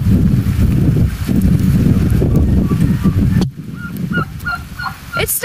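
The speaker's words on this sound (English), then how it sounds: "But the chickens are happy." Chickens in a coop cluck and call in a busy flock, loud and steady with wind noise, then quieter after a sudden drop, with scattered higher squawks near the end.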